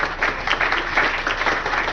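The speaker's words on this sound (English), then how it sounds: "Round of applause for group 2." An audience gives a round of applause for a group at a community housing strategies meeting, dense steady clapping that holds for the full two seconds with no talk over it.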